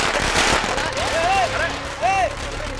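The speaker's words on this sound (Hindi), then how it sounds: "पटाखे फोड़ो" Firecrackers burst in a noisy outdoor celebration, sharp crackling pops mixed with voices shouting and a whistling, wavering tone, all loud and close.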